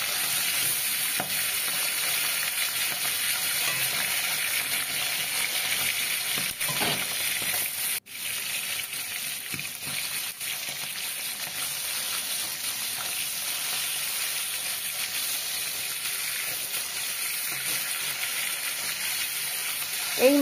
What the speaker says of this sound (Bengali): এই তেলটা গরম হয়ে গেছে, আমি এবার এক এক করে মাছগুলো তেলের ওপরে দিয়ে দেব।